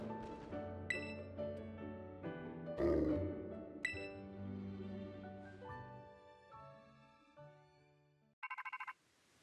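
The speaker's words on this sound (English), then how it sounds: "I'm getting a phone call!" A phone ringtone chimes in the Pokémon Violet video game, a short burst of rapid repeated tones near the end following tonal game music.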